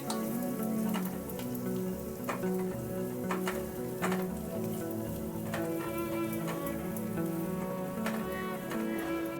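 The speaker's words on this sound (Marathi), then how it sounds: "आपला कांदा फ्राय होत असतानाच यामध्ये आपण लसूण देखील घालून घ्यायची आणि कांद्याबरोबर ती देखील छान फ्राय करून घ्यायची" Chopped onion and garlic fry steadily in a pan with hot oil, a continuous close sizzle with small crackles and pops running throughout.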